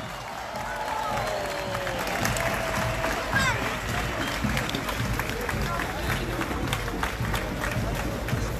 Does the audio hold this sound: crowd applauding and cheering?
yes